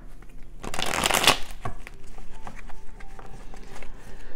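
A deck of tarot cards is riffled in a quick burst of crisp shuffling, followed by soft scattered card taps and handling sounds at close range in a quiet room.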